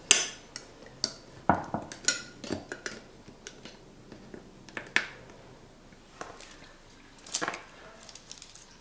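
A knife cuts cranberry toffee into squares on a kitchen surface, producing scattered close clicks, taps and crisp snaps at an irregular pace.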